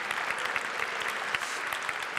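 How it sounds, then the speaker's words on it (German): Live audience applauding at an esports League of Legends-style match between NNO and Team, a steady dense clatter of clapping filling the hall for a couple of seconds without speech. "Großen Applaus auch für unsere Caster Bart und Mori."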